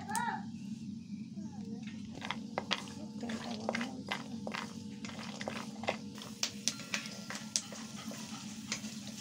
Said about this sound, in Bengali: বাদামগুলো ফাটতে শুরু করে দিয়েছে, আর একটু ভেজে এগুলো নামিয়ে নেব।